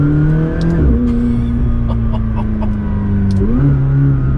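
Loud McLaren 600LT exhaust drones from inside the cabin, the engine note dropping and rising with gear shifts, rumbling close behind.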